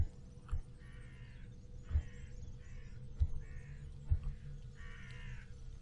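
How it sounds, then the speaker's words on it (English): Crows caw in a video game, several harsh calls spaced a few seconds apart over a steady low ambient hum, moderately distant and alone without talk. "It's just the crows I can hear."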